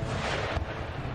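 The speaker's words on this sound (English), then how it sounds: "just to keep firing their cannons" Cannon fire from an Empire: Total War battle against the Ottomans, a heavy, rumbling boom and roar with another blast partway through, loud and continuous.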